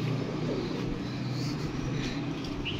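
Soft cooing of pigeons kept in a rooftop loft, low murmuring calls under a steady outdoor hum, fairly faint and continuous.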